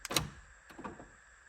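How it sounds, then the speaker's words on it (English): Power door locks on a 2010 Honda Accord, just repaired with a fuse replacement, actuate with two close mechanical clunks a fraction of a second apart, loud and near, with nothing else heard. "Both doors open, and then locking."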